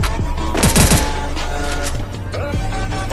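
Bursts of gunfire in Free Fire crack out in quick rapid volleys, loudest near the start, then sparser shots over in-game background noise.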